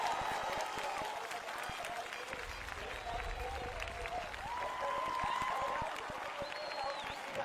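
A large crowd at the Assen motorcycle race cheering and applauding for Valentino Rossi, a distant, sustained roar with scattered claps and shouts, low rumble midway, faint voices mixed in.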